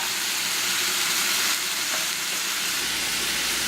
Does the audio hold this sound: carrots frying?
yes